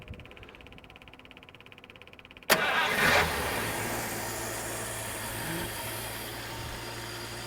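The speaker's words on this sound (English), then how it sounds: "I just wanted to show you how easy this car fires up." An old car engine that sat unused for over 20 years, fitted with a new fuel pump, cranks and catches after a quiet stretch, then settles into a steady, loud idle close by.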